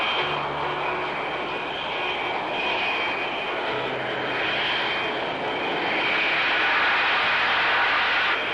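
An English Electric Lightning jet fighter roars steadily through a takeoff run, a loud sustained engine rush with a high whine that stays up close and continuous.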